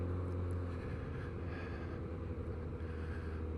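Kawasaki Z900RS motorcycle with an Arrow 4-into-1 full exhaust system and cat delete, riding up a lane: a steady, loud, deep exhaust drone holds throughout with some wind rumble mixed in.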